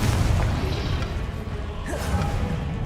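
Confringo explosive spell fired in Hogwarts Legacy, a deep booming blast with a crashing burst and swishing tail, loud and close amid ongoing combat effects.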